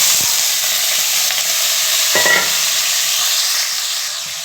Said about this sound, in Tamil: இப்போ இந்த கோவக்காயை கொட்டி சிம்மில் அடுப்பில் வச்சுருந்தா நல்லா ரோஸ்ட் ஆகி வரும்